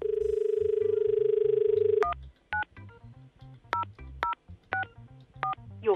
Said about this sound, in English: I didn't even finish dialing.